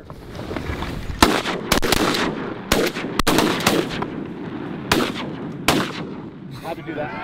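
Shotgun blasts during a duck and goose hunt, fired close and loud: about eight sharp reports in irregular pairs and clusters over several seconds, each trailing off into outdoor echo.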